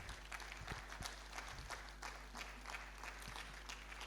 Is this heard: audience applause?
yes